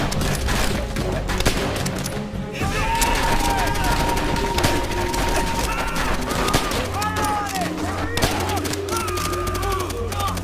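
Machine gun fire in the World War II shooter Call of Duty: World at War, a dense continuous rattle of rapid shots mixed with explosions and music, with soldiers shouting over the battle.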